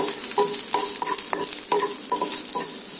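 Slit green chillies sizzle softly in a pan over a low flame, with a regular series of light scraping strokes as they are stirred.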